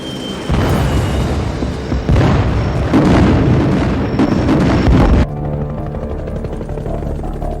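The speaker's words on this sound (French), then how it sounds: "Au-dessus de lui, les B-52 américains bombardent continuellement les troupes de l'ANV." American B-52 bombers pound troop positions, producing heavy rumbling blasts in a loud sustained barrage that cuts off abruptly into a quieter steady drone.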